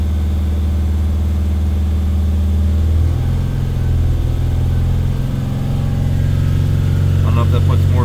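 A diesel engine in a Mercedes Sprinter T1N van, which has a leaking injector, is held at a raised idle near 2800 RPM and gives a loud, steady drone with a shift in pitch partway through.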